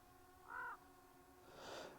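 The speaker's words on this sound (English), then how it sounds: "there's a raven right there out in front of me" A raven calls outdoors at Snake River Canyon with one short, distinct croak, followed by a softer, breathier sound. The calls are faint and distant against a steady low hum.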